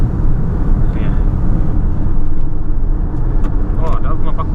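Wind roars in through the open rear windows of a Mercedes-Benz GLB petrol hybrid with 161 hp while it is driven. It is a loud, steady, low rumble with buffeting that lasts the whole time.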